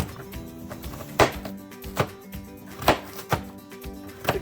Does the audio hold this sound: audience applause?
no